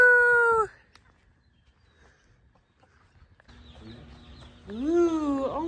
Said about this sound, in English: Oh, there's the roosters.